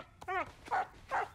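A cartoon dog barks in a French animated Polly Pocket episode, three short yelping barks evenly spaced, close and clear over a quiet background.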